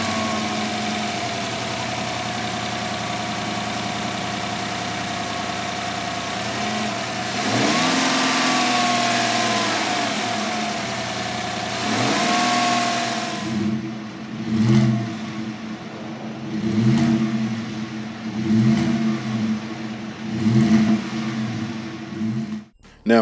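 A 2018 Chevrolet Silverado with a 6.2-liter V8 cranks and fires up, settles into a steady idle, then gives a series of rhythmic throttle blips that rise and fall, loud and close, with no talking.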